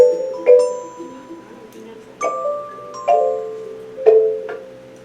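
Soprano and alto metallophones strike a few bright, ringing bars in a slow, uneven pattern at a classroom Orff session on Jamaican music, each note sustaining and decaying clearly, with no voices over them.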